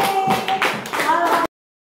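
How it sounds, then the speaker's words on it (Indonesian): A classroom of pupils claps together in a short, dense burst lasting about a second and a half, mixed with voices, before cutting off abruptly. "Oke, tepuk tangan untuk kita semua hari ini."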